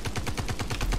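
Gunfire in a multiplayer shooter game, a steady burst of about ten rapid, evenly spaced shots, loud and close, with no talk over it.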